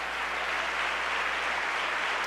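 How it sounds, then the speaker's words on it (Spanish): A church congregation claps during a Sunday service, a dense, even wash of applause filling the room at moderate loudness without speech. "Démosle ese aplauso fuerte al Señor."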